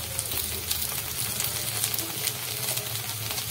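Ground spice paste from the mixer frying in a pan for an okra fry, giving a steady close sizzle and hiss throughout with no talking.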